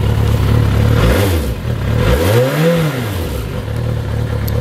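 1993 Yamaha GTS-1000 motorcycle engine, not yet warmed up, idling close by, then two quick throttle blips that swell and fall back to a steady idle.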